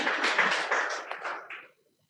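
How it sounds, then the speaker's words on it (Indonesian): A church congregation applauding during a worship service, a brief burst of dense clapping that tapers off and stops after under two seconds. "Mari kita berikan tepuk tangan buat Tuhan Yesus"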